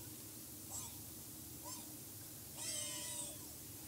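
A cat in the PS VR game The Playroom VR meows three times over steady hiss: two short mews, then a longer, drawn-out wavering meow.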